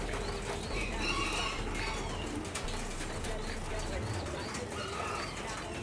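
Giant pigeons coo softly while wings flap now and then, close by in a pen, with someone talking over them.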